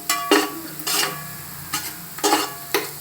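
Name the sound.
green chillies frying in a pan for mutton biryani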